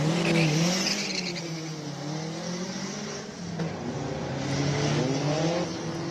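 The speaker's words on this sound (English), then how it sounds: "You can hear the turbos pulling up from the start line." A tribute turbocharged Porsche 924 GTB with a wide-body rear pulls away from the start line at a classic car hillclimb in Cape Town, its engine note rising steadily and loud with turbo whine above, heard alone.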